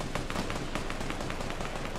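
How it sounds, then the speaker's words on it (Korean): Rapid bursts of gunfire crackle in a quick irregular stream in the video game Fortnite Battle Royale, some shots overlapping, over a dense rumbling background. "난리 났다 지금 총소리 사방에."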